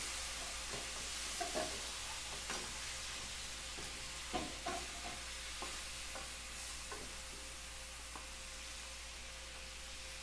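Kare kare stew with banana heart and broth is stirred in a pot under a steady soft sizzle, with faint irregular scrapes and knocks of the spoon spread across the stretch, quiet and without voices.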